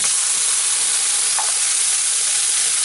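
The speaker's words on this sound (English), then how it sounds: "Put your mushroom soup in here," Canned mushroom soup hits a hot pan still coated with pork chop drippings, giving a loud, dense, continuous sizzle and hiss that stays even from start to finish.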